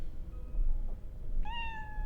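A cat named Nibbles in the Cyberpunk 2077 game gives a single clear meow near the end, after a quiet stretch of low background hum.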